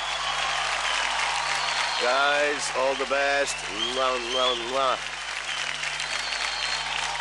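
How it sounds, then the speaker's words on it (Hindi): A studio crowd at the Zee TV dance show DID L'il Masters keeps up steady applause throughout, with a voice talking and briefly singing over the middle of the clapping. "एक बार जोरदार तालियां"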